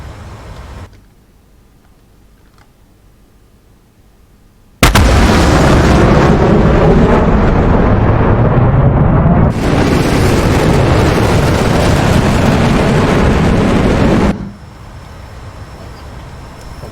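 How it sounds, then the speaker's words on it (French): An F-14 breaking the sound barrier in the DCS flight simulator: after quiet cockpit ambience, a sudden loud, dense jet roar bursts in, holds for about ten seconds, then drops back to a softer hum. "Là, on passe le mur du son."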